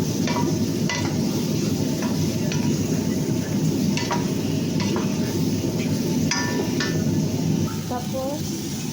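Mushrooms and vegetables sautéing with black pepper in a pan sizzle steadily while a utensil stirs and scrapes in repeated strokes, fairly close and loud.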